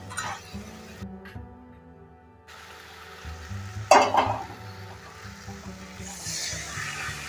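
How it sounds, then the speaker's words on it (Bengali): Potatoes dropped into a hot frying pan with a spiced mixture for lentil kachori filling, giving a short burst of sizzling and clatter near the middle, then a steady low frying hiss with light stirring. "আলুগুলো দিয়ে দিলাম।"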